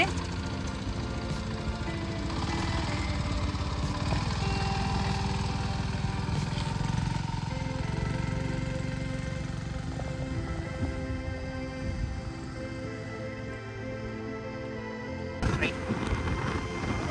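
A TVS motorbike rides along a road, its engine a steady, close drone that runs the whole time, with a brief louder rattle near the end.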